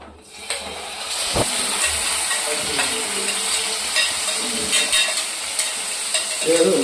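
Hot oil sizzles in a pan while frying for pepper chicken masala. The hiss is steady and continuous, with small pops and stirring clatter close by.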